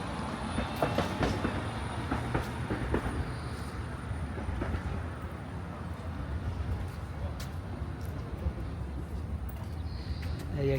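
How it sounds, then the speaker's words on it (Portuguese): A train rolls past on rail tracks in Hiroshima, Japan, its wheels giving a steady, continuous clickety-clack rumble close by for the whole stretch, with faint street ambience around it. "Vai passando o trem"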